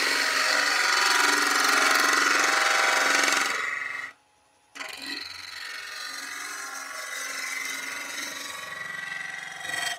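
A wood lathe turns a staircase spindle as a bead is cut through knotty, gnarly wood, giving a steady, loud rasping whine that drops out for a moment midway and then resumes.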